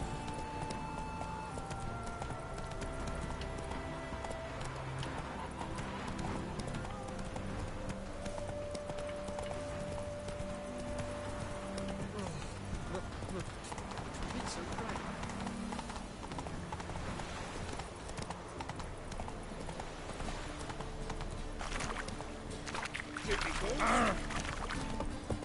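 Roach the horse in The Witcher 3 gallops with a steady rapid clip-clop of hooves, continuous and moderately loud beneath dense game music and ambience, with a brief neigh-like burst near the end.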